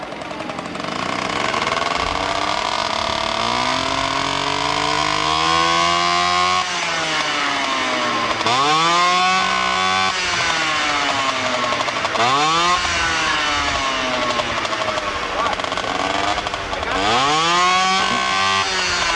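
Yamaha-powered hillclimb motorcycle at a 1996 AMA hillclimb in Monson, Massachusetts, its engine roaring loudly and continuously, with repeated rising revs and sharp drops through the clip.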